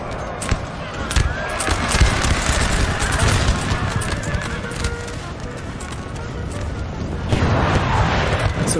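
Massed artillery and musket fire in the Napoleonic battle game Napoleon Total War 3, a dense continuous roar of cannon booms and crackling volleys with galloping cavalry hooves and horses mixed in across a large battlefield.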